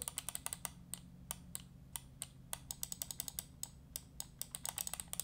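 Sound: Makalu Max gaming mouse button clicks, KLGM 8.0 switches

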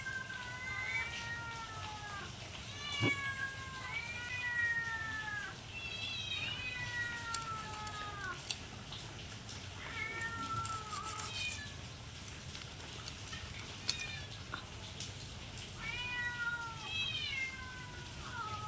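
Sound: cat meowing

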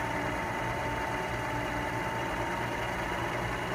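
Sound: two Prius electric motors running against each other

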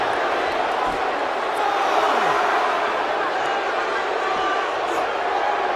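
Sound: arena crowd cheering in WWE 2K17 video game

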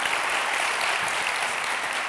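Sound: audience applause

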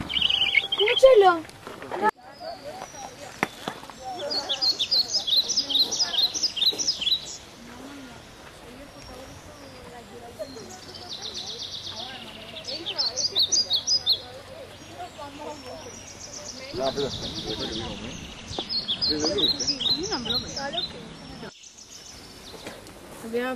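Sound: wild bird calling at Duino sea cliffs

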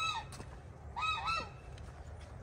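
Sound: geese honking as they walk away

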